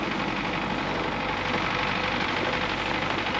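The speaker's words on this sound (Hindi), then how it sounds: "जो बर्फ़ इधर उधर फैली है उसको ये ट्रैक्टर वगैरह साफ़ कर देता है।" A tractor engine clears snow on a city street in Petrozavodsk, Russia, heard as a steady, dense low rumble with a constant mechanical drone and no pauses or talking.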